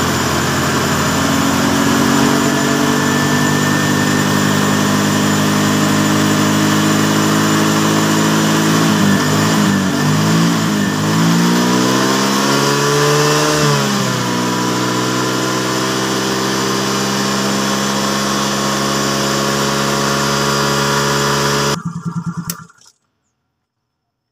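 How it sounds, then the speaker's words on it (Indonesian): Yamaha Mio J scooter engine, prone to stalling with a battery that keeps running flat, idling steadily up close, revving up briefly in the middle and then cutting off abruptly near the end. "di sini nanti kita hidupkan mesinnya"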